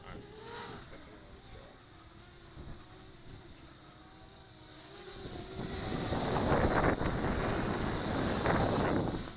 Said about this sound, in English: Man, the wind's kicking.